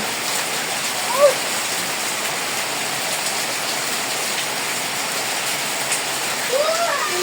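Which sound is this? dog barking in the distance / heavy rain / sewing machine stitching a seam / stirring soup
heavy rain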